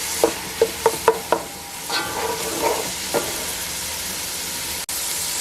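A spoon knocks sharply against a pan several times while Puerto Rican meatballs are stirred, then a softer sizzle and scraping carry on under steady frying hiss.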